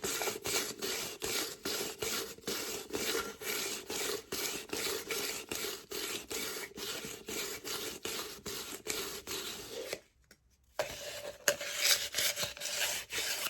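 Sandpaper rubbing back and forth across the rim of a plastic epoxy tumbler, a steady rasping scrape in quick repeated strokes, close and continuous, with a brief pause near the end before the rubbing resumes.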